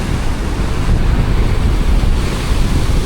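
Ocean swells surge into deep rock pools on a rocky shore at Toco, a loud, continuous roar of churning water mixed with strong wind buffeting the microphone.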